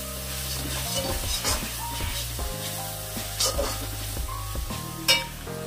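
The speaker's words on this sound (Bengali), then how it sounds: "তো নুনটা দেওয়ার পর এবার ভালো করে মশলাটা এবার নাড়িয়ে নেবো" Spices with turmeric and salt stirred in a hot sizzling pan, a continuous crackling sizzle with regular scraping strokes of a utensil and a sharp clack near the end.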